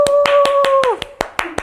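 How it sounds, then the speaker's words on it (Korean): A person claps in a quick steady rhythm, about nine sharp close claps, with a held electronic tone under the first half that bends downward and fades. "왜 자꾸 박수를 치시는 거예요?"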